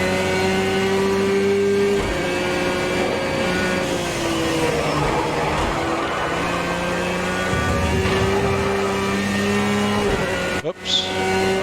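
A Porsche 911 race car engine in a sim racing game, loud and continuous, its revving tone stepping up and down through gear changes with faint tire noise before cutting out briefly near the end.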